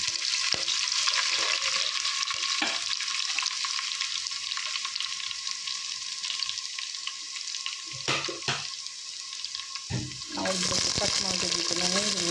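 Mustard seeds, chillies, ginger and garlic paste sizzle and crackle steadily in hot oil, with stirring scrapes and a brief burst of louder spluttering near the end.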